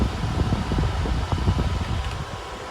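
A Dyson Hot+Cool formaldehyde air purifier fan runs with a steady, close broadband whoosh of moving air, its level fairly even throughout.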